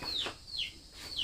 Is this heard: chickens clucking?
yes